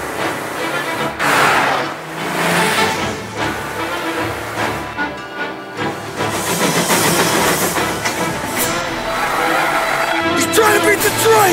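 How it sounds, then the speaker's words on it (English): A train rumbles past close by with hissing steam and rolling clatter over about eleven seconds, loud and shifting, with shouting voices breaking in over it. "He's trying to beat the train!"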